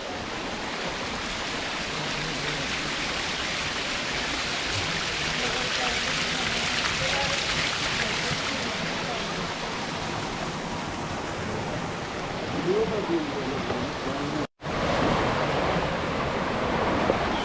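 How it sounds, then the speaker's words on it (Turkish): A muddy stream rushing steadily nearby after rain, a broad continuous wash of flowing water with a brief dropout near the end. "Su bulanık akıyor."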